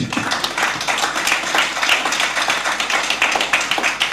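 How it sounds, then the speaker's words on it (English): A round of applause at a Kenyan conference on the integrity of academic and professional qualifications: dense, steady clapping from a crowd of hands lasting several seconds, loud and unbroken. "We can give a round of applause to Nimrod"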